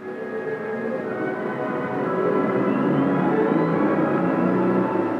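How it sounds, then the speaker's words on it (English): Army tank engine running inside an enclosed test chamber, operated from a control room: a steady, loud droning roar with a faint rising whine, continuous throughout. "engine is started and operated from the control room"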